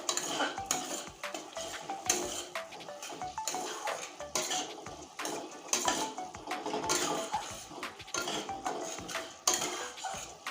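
Chickpea curry with coriander powder and turmeric sautéed in a pan, a spoon scraping and clattering against metal in busy, continuous strokes, close and fairly loud, with faint frying underneath.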